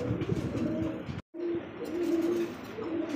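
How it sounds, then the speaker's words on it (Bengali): Blue satin pigeons coo in low, soft, repeated calls close by, with a brief gap partway through before the cooing resumes. "এখানে আরও এক জোড়া ব্লু শার্টিন কবুতর"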